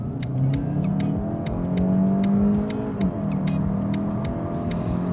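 A Volkswagen Golf 8 GTE eHybrid in sport mode accelerates hard on a test drive, its engine revving and climbing through gears with a smooth rising drone heard from inside the cabin, accompanied by regular ticking clicks and no talking.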